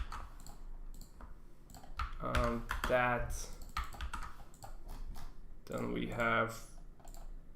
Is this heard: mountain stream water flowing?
no